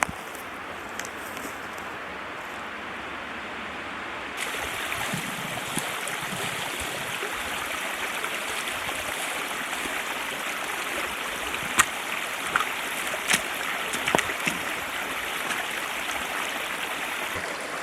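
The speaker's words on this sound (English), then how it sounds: "So just following the stream back down" A woodland stream in Wales flows steadily over stones, a constant broad rushing babble that swells slightly after the start and carries a few brief splashes, with no voices.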